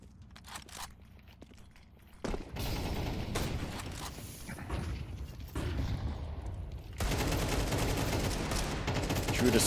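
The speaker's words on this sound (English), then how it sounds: "Through the smoke, a few bullets actually do connect." Gunfire from a Counter-Strike esports match, with bursts of shots and rapid automatic fire at close range throughout, growing denser and louder in the second half amid continuous game noise.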